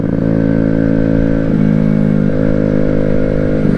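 An Amstar Nostalgia 50cc moped engine pulls in second gear while riding, a loud, continuous buzzing drone with small shifts in pitch as the throttle changes, heard close up with no voices.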